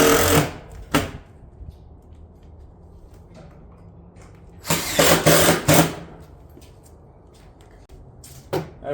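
A power driver sets 2.5 inch panel screws through ridge caps on a shingle roof, giving short loud whirring bursts separated by quiet pauses, one brief burst, a longer run of several, and another brief one.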